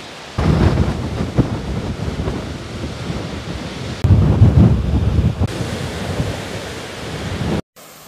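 A thunderstorm rumbles with deep rolling thunder and gusty wind buffeting the microphone outdoors, loud and continuous before cutting off near the end.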